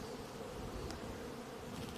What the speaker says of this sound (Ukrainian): Бджілки добре носять різнотрав'я.